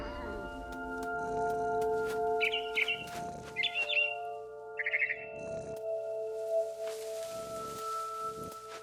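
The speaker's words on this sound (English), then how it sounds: "Then I heard chirping outside my window. It was a barn swallow going back to her nest." Short chirps from a barn swallow in the video game What Remains of Edith Finch come in a few brief bursts over a steady ambient drone, moderately faint.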